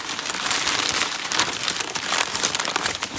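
Paper being unfolded and crinkled, a large sheet opened out of a package, with continuous close crackling and rustling throughout, no voices.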